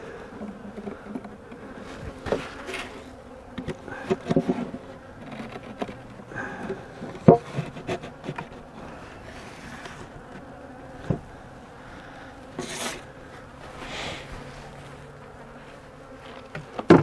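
A tiny, struggling swarm of bees buzzing steadily at close range, a low droning hum with occasional louder passes and small bumps, no speech.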